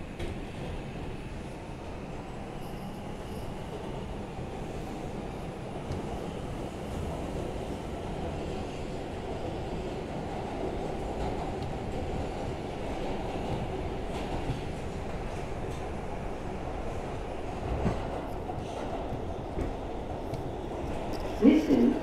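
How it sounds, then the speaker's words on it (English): An R142 subway car on the NYC 2 line, Bronx-bound after 116th Street, runs with a steady rumbling roar and faint wheel clatter throughout, with a brief squeal near the end. "This is a Bronxbound 2 train."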